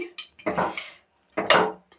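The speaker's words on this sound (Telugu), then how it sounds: "మంచిగా వాటర్ పోసేసి చక్కగా కలిపేసి" Water is poured into a pan of chicken gravy curry and stirred in, heard as two splashy bursts of pouring and sloshing with a short quiet gap between them.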